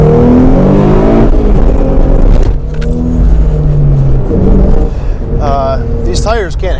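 MPT-tuned car on NT555 tires in cold weather, engine loud and close as it accelerates hard with rising revs, a voice talking over it and a brief squealing chirp near the end.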